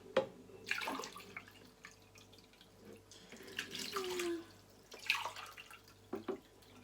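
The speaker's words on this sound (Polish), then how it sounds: "Do miski wlewam sobie półtorej szklanki, takiej oto, przygotowanej wody." Water from a glass poured into a mixing bowl in a kitchen while making a raw carrot cake, a light splashing trickle with a few brief sloshes and clinks, fairly close and with no talking.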